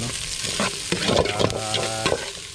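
Ginger, garlic and onion sauté in a pan outdoors, giving a bright, constant sizzle broken by a few spatula scrapes and knocks, heard close with no talking.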